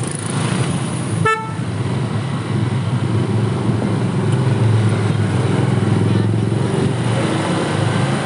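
A Harley-Davidson motorcycle's exhaust rumbles loud and steady close by on an evening ride, with a short horn toot near the start.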